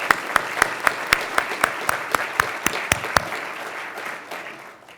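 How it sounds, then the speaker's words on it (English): An audience at the 2007 Goldsmith Awards ceremony breaks into applause, opening with a dozen sharp, evenly spaced claps that swell into a steady round of clapping, then fade. "just a quick round of applause for Marvin and his extraordinary achievement"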